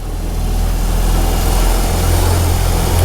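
A BMW R18 2024 cruiser motorcycle with its large boxer twin engine runs steadily nearby, a deep low rumbling throb with continuous mechanical vibration and no talking.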